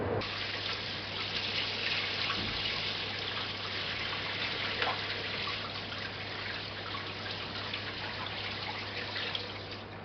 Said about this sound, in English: I filled the aquarium with water right up to the top